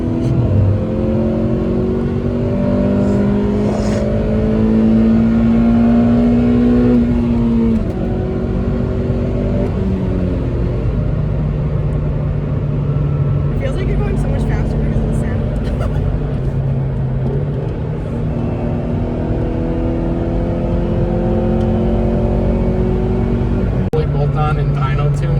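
An 8th gen Honda Civic Si engine needing a valve adjustment revs repeatedly, its pitch climbing and falling in several sweeps over a droning idle, with people talking faintly in the background.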